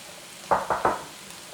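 Spinach tossed into a hot pan with a creamy mushroom sauce and potatoes, three quick sizzling stirs in close succession over a quiet kitchen background.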